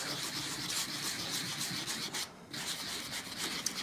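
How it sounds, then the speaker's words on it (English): A sanding block rubs over white cardstock on a Christmas tag in quick, steady back-and-forth strokes, a close raspy scratching with one brief pause. "So what I'm going to do is I'm going to just sand over the top."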